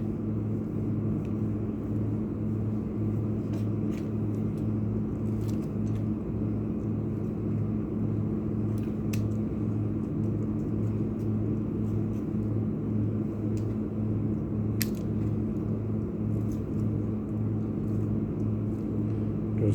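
A Fasco 520-watt AC fan motor being rewound and tested, running at medium speed with a steady low hum and whir, constant and close throughout, with a few faint clicks and no talking.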